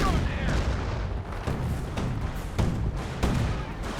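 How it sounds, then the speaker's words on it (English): In Company of Heroes, a Panther tank and other units fire in a dense battle mix of repeated booms and gunshots, with several sharp bursts over a constant rumble while a voice talks throughout. "And I'm going to see some Panther fire."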